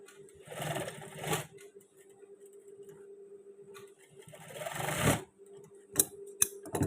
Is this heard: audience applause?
no